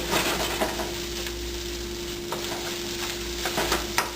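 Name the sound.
stirring and frying rice in a pan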